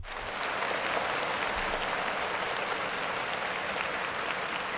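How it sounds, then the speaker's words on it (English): Steady crowd applause, a dense wash of many hands clapping that swells in quickly and holds at an even, loud level throughout. "Clap it up for the news"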